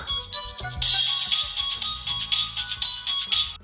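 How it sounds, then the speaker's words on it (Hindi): A mobile phone rings in an office, its bright electronic ringtone chirping in repeated bursts of a short melody that carry on steadily for several seconds with no talk over it. "सबके फोन इतने क्यों बज रहे हैं?"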